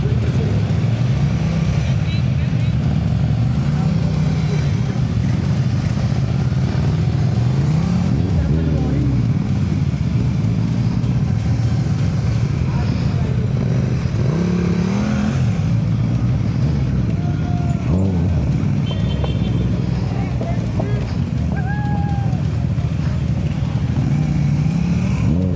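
Several different motorcycles ride past at a riding skills competition, their engines revving and rising in pitch as they pass, with a steady rumble throughout and people talking in the background.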